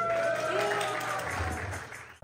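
Dense applause from the crowd at a Pakistani community cultural festival in New York welcomes the organisation's founder, a continuous clapping wash with a voice and tonal sounds layered underneath, fading out abruptly near the end.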